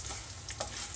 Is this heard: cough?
no